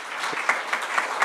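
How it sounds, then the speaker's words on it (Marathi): Church audience at a Christmas celebration service clapping together for a guest, a brief, fairly loud burst of applause with individual claps standing out, no talk over it. "आपण जोरदार टाळ्या वाजवू त्यांच्यासाठी"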